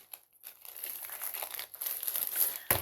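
White plastic packaging crinkles close up as it is pulled open, with irregular rustles building toward a louder tear at the end.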